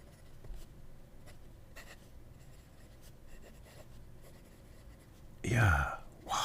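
A fountain pen nib writes on smooth Tomoe River paper: quiet, soft scratching strokes in short separate bursts, close up, followed by a brief loud rustle of handling near the end.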